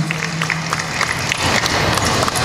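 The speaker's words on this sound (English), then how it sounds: "A round of applause." A convention crowd at a Florida Supercon Q&A session applauds, a steady broadband wash of clapping that swells and holds throughout, with a faint voice briefly audible at the start.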